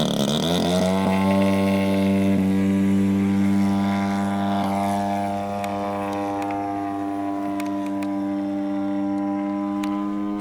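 A RedwingRC 50cc Yak 55 gas-powered RC airplane flies on its maiden flight, its engine giving a loud steady buzzing drone that rises in pitch at the start and then holds.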